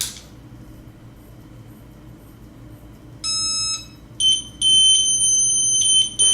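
Paraforce PF Quad detector's alert goes off in short bursts of high electronic tones, one brief then two longer stretches, close and clear over a quiet room.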